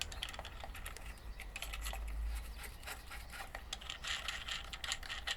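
Clutch alignment tool being tightened on a flywheel of a Mk4 Ford Transit engine, giving a steady run of close, small mechanical clicks and ratcheting scrapes with no talk.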